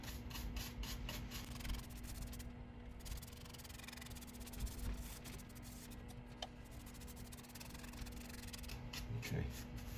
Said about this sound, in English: I'm using a brush to put it on just because it's easier to get into all the little areas